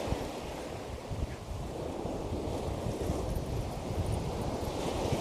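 Cold wind blows steadily across a beach at Felixstowe during a fishing session, a loud broadband rush with gusty buffeting on the microphone and possible surf beneath, continuous throughout with no talk.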